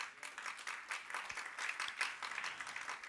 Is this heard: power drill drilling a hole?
no